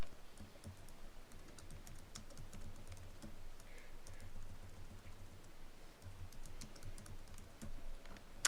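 Fast typing on a computer keyboard: a quiet, steady stream of close key clicks with no talking.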